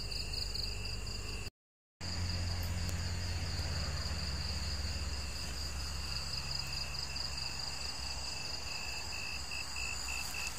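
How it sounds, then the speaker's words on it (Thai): A steady chorus of crickets chirps continuously through the humid night air after rain, high and shimmering, with a low rumble underneath and a brief dropout near the start. "ที่เราจะทํากับข้าวนี่เราก็ได้ยินเสียงจิ้งหรีดนะครับ"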